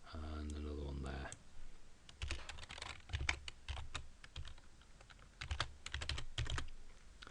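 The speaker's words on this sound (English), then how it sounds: "So just type a couple more." Computer keyboard typed in quick irregular bursts of close clicking keystrokes, preceded by a short tonal chime, with quiet pauses between bursts.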